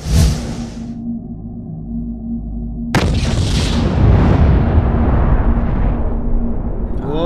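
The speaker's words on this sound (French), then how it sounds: "Une explosion, quoi." A hydrogen balloon explodes in a short, sharp blast, preceded by a brief whoosh of flame, with a loud burst that decays into a rushing, rumbling tail.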